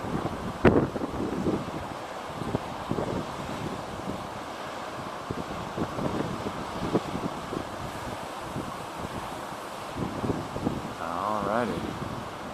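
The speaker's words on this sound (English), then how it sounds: "And then there's the ocean doing its Tai Chi practice over there" Ocean surf at Bandon, Oregon washes steadily in the distance under heavy wind buffeting on the microphone, with a few brief human sounds.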